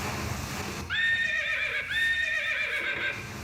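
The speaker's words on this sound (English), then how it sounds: "Imaginen a Don Quijote en su caballo" A horse neighs as a sound effect in a Don Quixote theatre scene, one loud, close whinny with a rising and falling pitch that carries on for a couple of seconds over a soft hum.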